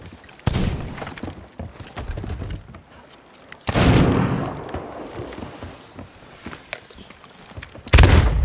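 Gunfire in the Sea of Thieves video game, with several loud, abrupt shotgun-like blasts separated by pauses and a quieter background in between.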